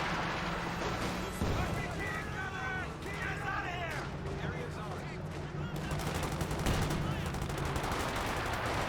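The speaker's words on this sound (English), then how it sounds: "AT guns firing away as well" Anti-tank guns fire in a Company of Heroes 2 battle: dense, booming cannon and gunfire blasts layered over constant battlefield rumble, with a voice talking over the action.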